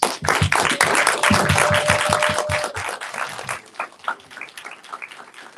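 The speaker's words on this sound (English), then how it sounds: "let's give a round of applause for Jordan Bush." An audience at a live event gives a round of applause, loud mixed clapping that peaks at once and then gradually thins to scattered individual claps as it fades.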